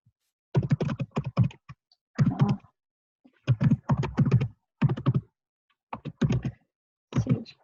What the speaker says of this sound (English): Such pressure typing when you know people are watching.